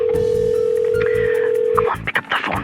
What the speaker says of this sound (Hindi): Pick up the phone, pick up the phone, pick up the phone Barkha.